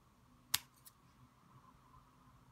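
A single sharp snip of 28 gauge wire being cut to length for gumpaste peony petals, followed by a softer second click, close and alone in a quiet room.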